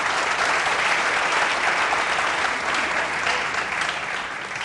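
A studio audience on a cricket discussion show claps in sustained, dense applause that stays loud and even throughout before easing slightly at the end.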